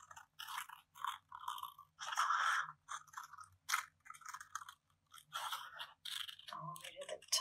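Scissors snipping through paper while trimming around a delicate cut-out image of a figure's hair for an askew collage, crisp crunchy cuts in short bursts of several snips, close and fairly loud, with a voice speaking briefly between them.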